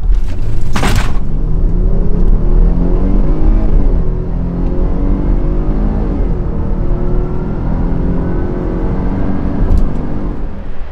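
A 2021 Dodge Durango GT, a fleet vehicle, accelerating hard from a standstill: a sustained engine roar climbing in pitch through gear changes, heard from inside the cabin, with a short knock near the start.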